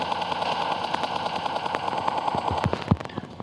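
Rapid bursts of M4 rifle fire ring out in the PUBG Mobile video game, sharp repeated shots clustered toward the end over a busy game background.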